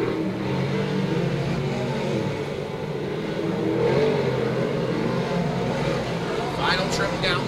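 Open Sportsman race cars run the final lap of a qualifying heat, their engines making a continuous loud roar and a broad rush of sound under an announcer's voice.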